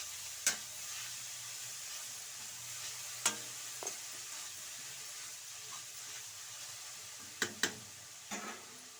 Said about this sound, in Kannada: ಹಾಕಿ ಒಂದ್ಸಲ ಮಿಕ್ಸ್ ಮಾಡಿ.